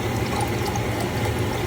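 Vegetable broth poured from a measuring cup into a pot, a continuous close watery splash and gurgle for a brief stretch.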